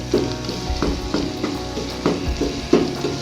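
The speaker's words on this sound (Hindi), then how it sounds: "अभी हम इसको इतना भूनेंगे कि जो ऑयल छोड़ देता है ना, इस तरह ये ऑयल छोड़ दे" Egg mixture frying in oil in a pan, a loud close sizzle with repeated scraping and stirring strokes at an irregular rhythm, no voices.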